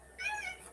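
A pet cat gives a single short, clear meow close by indoors.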